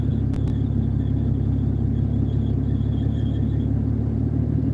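A car engine built to run on ethanol fuel idles steadily with a deep, constant rumble, and a faint high squeal rides over it for most of the stretch, close and continuous.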